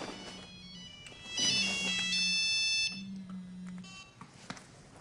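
An electronic phone ringtone sounds in repeated bursts of bright, tonal beeps with brief pauses between rings, fairly loud and close, with no talk over it.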